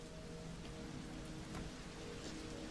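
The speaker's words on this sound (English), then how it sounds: "You can hear the rain." Rain falls steadily as a faint, even hiss with soft patter, alone and unbroken throughout.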